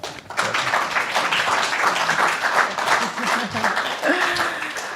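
An audience at an art, poetry and music exhibition claps for a poet and artist being welcomed, a steady patter of hands at moderate level while voices talk over it.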